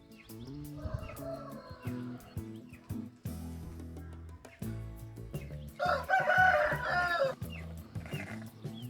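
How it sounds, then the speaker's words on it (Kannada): A sick, dehydrated hen gives raspy, hoarse clucks and calls in short bursts, close by, with a louder strained call near the end and no talking. "ನೋಡಿ ಗರಗರ ಅಂತ ಇದೆ ನೋಡಿ ವಾಯ್ಸ್ ನೋಡಿ ಕೋಳಿದು"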